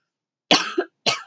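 A woman coughs from a tickle in her throat, two or three short throaty bursts close to the mic, the first one doubled, with silence before and between them.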